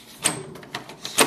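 Plastic cover of a Canon Pixma TR4750i printer being closed, giving a few short clicks and knocks spread over about a second, the loudest snap at the end, close and fairly quiet.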